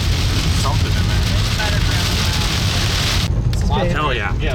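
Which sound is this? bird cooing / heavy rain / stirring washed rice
heavy rain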